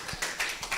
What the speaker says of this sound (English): A round of applause if you can clap for him